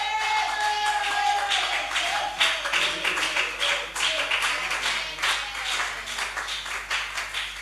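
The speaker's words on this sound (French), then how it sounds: "on acclame très fortement les seigneurs" A church congregation claps and cheers as a speaker approaches, a dense, steady wash of many hands with sharp irregular slaps and raised voices, loud and close throughout.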